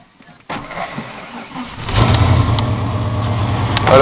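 Lifted 1996 Ford F-150 truck's engine starts cold: a brief starter crank, then the engine catches with a loud rumble and settles into a rough, throaty idle through the exhaust, close by, with faint talk beforehand.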